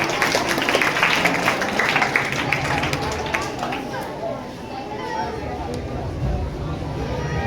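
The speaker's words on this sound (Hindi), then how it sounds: "आप लोग पर जोरदार फिर से तालियां बजा दीजिए।" A crowd at a student results celebration claps loudly and densely, the applause fading after a few seconds into chatter and voices.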